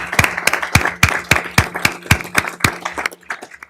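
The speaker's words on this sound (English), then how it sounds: "She deserves a great round of applause for all she's done." A single person clapping at a township council meeting, honoring a Special Olympics director, in about a dozen sharp, evenly spaced claps over a low steady hum, close and alone without talk.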